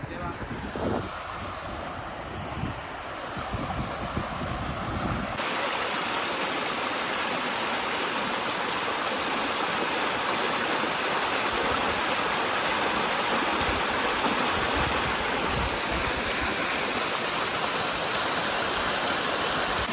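Shivdoh waterfall roars steadily with low flow after little rain, a dense, unbroken rush of falling water close by, with a slight shift in level partway through.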